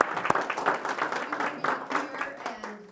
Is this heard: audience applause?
yes